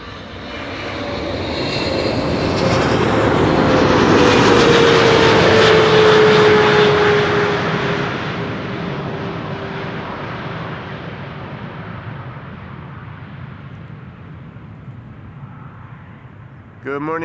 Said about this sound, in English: This is KLM flight 736 arriving from Willemstad, Curaçao.